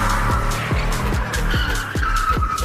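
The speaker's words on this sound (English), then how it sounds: "Now it's time to learn how to do a 180 drift." A car's tires squeal and skid through a 180-degree drift, a loud, continuous screech over engine noise with rhythmic pulsing sweeps.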